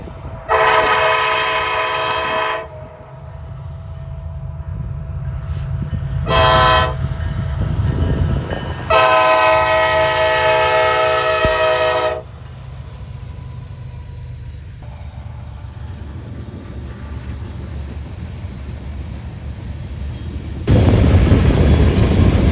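A BNSF freight train led by Norfolk Southern locomotive 1080 passes on the Northern Transcon in North Dakota, sounding several loud horn blasts over the steady rumble of rolling cars.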